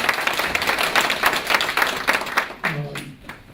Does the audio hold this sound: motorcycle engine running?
no